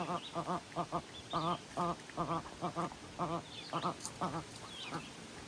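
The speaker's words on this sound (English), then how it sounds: "I just let the chickens and the ducks out." A busy run of repeated duck quacks in rhythmic bursts, fairly close, with faint chicken calls and chirps in the background.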